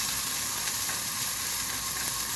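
Onions sizzling and frying in a pan for a Filipino-style chicken curry, a steady close hiss with faint stirring, no talk.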